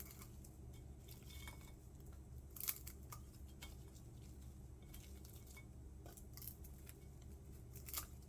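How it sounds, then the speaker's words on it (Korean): Kitchen scissors snipping dried pollack in half, several sharp separate clicks and crunches spread across a quiet background with no talk. "황태는 가위로 반으로 잘라주고요."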